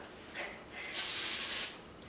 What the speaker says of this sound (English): and I spray one side with a little bit of oil